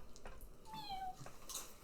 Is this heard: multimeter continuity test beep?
no